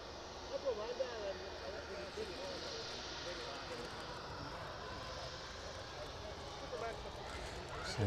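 A cargo aircraft's engines hum steadily at East Midlands Airport as it prepares to depart, a sustained distant drone with slight swells, while someone talks over it.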